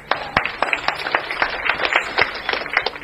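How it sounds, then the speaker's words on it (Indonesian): Audience clapping after a call to applaud during a church sermon podcast, a burst of many scattered hand claps filling the space at moderate loudness with no talk over it. "Tepuk tangan dulu."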